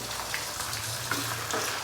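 Chicken goes into a hot pan with fried onions and sizzles with a soft, steady crackle that runs continuously at low volume.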